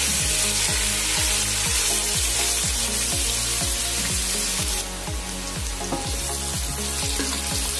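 Lamb shank with carrots cooking in a pan, a steady close sizzle and bubbling with a repetitive rhythmic clatter of stirring running throughout.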